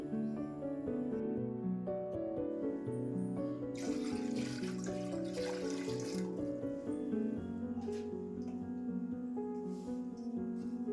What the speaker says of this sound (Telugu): అందులో స్టాండ్ పెట్టి స్టాండ్ మునిగేంత వరకు వాటర్ వేసుకోవాలి